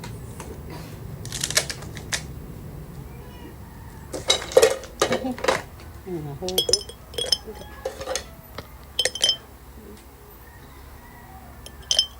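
Dishes being washed in a home kitchen: plates and cutlery clink and clatter in irregular bursts, some sharp and close, with quieter gaps and background movement between them.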